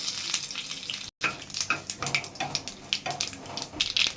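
Mustard seeds and halved green chillies hit hot oil and crackle with a close, busy sizzle full of quick pops and spatters, interrupted by a brief cut near the start.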